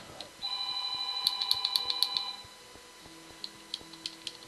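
A telephone rings in a video game, a high repeated trill of about six quick bursts over a steady tone, fairly loud and alone, followed by faint scattered ticks and a low hum.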